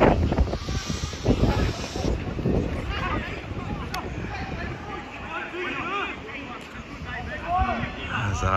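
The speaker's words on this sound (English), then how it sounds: "Oh man, this wind is cold." Cold outdoor wind buffets the microphone at a football match, a loud, rumbling roar that gusts strongest early and stays constant beneath someone talking.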